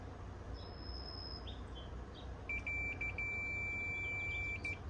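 A multimeter in continuity mode, probing a capacitor, gives a few short high chirps and then a sustained electronic beep that cuts out briefly once or twice, clear and close over a quiet room.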